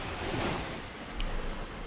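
Ocean surf breaks onto rocks along the coast at Mossel Bay, South Africa, a continuous roaring wash with a brief surge partway through, buffeted by wind noise on the microphone.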